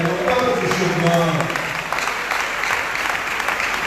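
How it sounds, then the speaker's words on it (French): A church congregation applauds during a Sunday worship and praise service, a loud, steady roar of clapping, with a voice speaking over it at the start. "Nous applaudissons à la gloire de Dieu."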